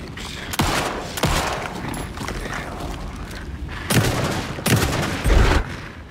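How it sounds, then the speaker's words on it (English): Pistol and shotgun fire from the video game Alan Wake 2 booms out in several loud, sharp blasts spaced seconds apart over a dense, rumbling game soundscape. "execute our pistol and shotgun combo"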